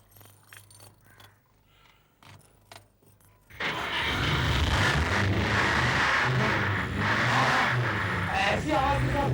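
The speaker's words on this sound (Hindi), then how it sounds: "गाड़ी स्टार्ट करो।" A car engine with a burst silencer cranks and catches, then roars in a loud, rough, sustained rev. Quieter clicks and movement come just before the start.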